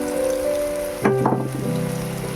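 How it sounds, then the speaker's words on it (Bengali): Soya chunks tossed with ground spices fry in a pan at home, giving a steady, close sizzling crackle with a brief burst of louder spitting midway over a faint tonal background. "এটা ভালো করে ভাজতে থাকবো।"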